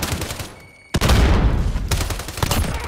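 Sniper rifle fire in Call of Duty: Modern Warfare: a sudden loud crack after a brief lull, followed by sustained echoing gunfire and further shots.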